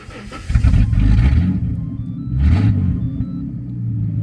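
A Tickford Ford AU XR6 with about 298,935 km and an aftermarket cat-back exhaust roars loudly up close in two throttle blips, a deep rumbling growl swelling and easing back to a throaty idle.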